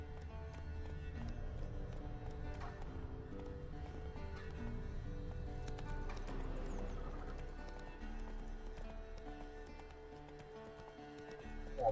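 Roach the horse galloping in The Witcher 3, with rapid clip-clop hoofbeats running continuously and close, over a layered game soundtrack, with a brief whinny-like cue.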